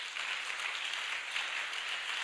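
A church congregation applauding the Holy Spirit, a steady, even patter of many hands clapping, fairly soft and without any voices.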